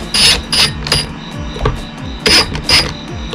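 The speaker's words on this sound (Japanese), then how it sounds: "それではまずテーブルに金具を取り付けていきます" Metal brackets are fastened to a wooden table in a series of short, loud mechanical bursts with brief pauses between them, close by and with no talking.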